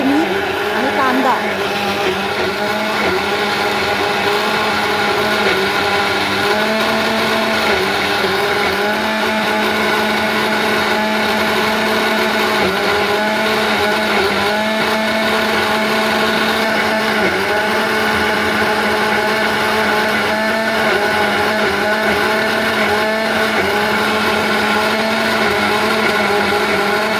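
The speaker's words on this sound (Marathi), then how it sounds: "मिक्सरमध्ये वाटून घ्यायचं आपल्याला चांगला बारीक." A mixer grinder blends liver masala with ginger, garlic, chilli, coriander and onion, running as a loud, continuous motor whine with steady droning tones that hold for the whole stretch.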